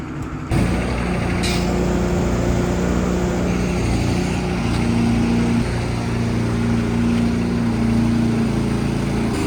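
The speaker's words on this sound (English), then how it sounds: "You can tell with the sound of the engine when it grabs hold of it" A John Deere 8RX tractor's diesel engine rumbles steadily nearby, its tone shifting and deepening as it labors under load pulling a Simba Solo cultivator, with no voices.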